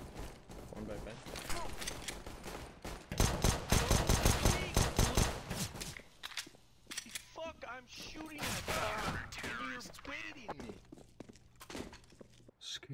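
Gunfire in the shooter game CS:GO: a heavy rapid burst of shots in the middle, with scattered shots, mechanical clicks and footsteps before and after, while players talk.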